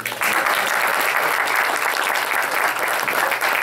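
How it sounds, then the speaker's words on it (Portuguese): Steady, dense applause from an audience at a round-table political event in a municipal chamber, starting abruptly and continuing loudly with no voices over it. "Vamos aplaudir, gente?"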